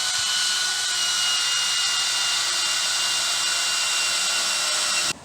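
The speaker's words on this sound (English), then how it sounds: "I'm going to get the drill, and I'm just going to drill the bolt out" Power drill boring out a bolt while preparing a tow setup for an RV, a steady high-pitched whine running continuously at close range before cutting off at the end.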